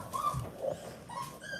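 A puppy whimpers in a series of thin, high whines, soft and close, with brief pauses between them and no talking over it.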